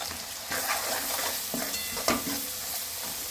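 Garlic, cumin and coconut sizzle in hot oil after the onions have browned, with a dense, continuous frying hiss and a few spatula stirs, heard up close with no voices.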